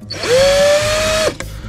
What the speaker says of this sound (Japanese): 下穴に対してちょっとドリルが太すぎた